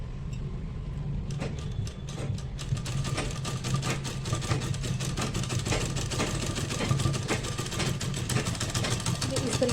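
Sewing machine stitching a flat collar a quarter inch from the edge, a steady mechanical whir running continuously and fairly close throughout.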